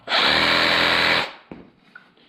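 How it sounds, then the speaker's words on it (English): A brushless Makita reciprocating saw with a carbide blade makes a loud buzzing cut of just over a second, then winds down and leaves a few faint knocks and clicks, with no talk. "It's a brushless Makita Sawzall."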